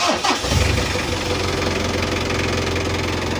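A Mitsubishi L300 van engine, fitted with an upgraded final gear ratio and a 12mm rotor head, cranks briefly and catches, then settles into a steady, close, rough-edged idle.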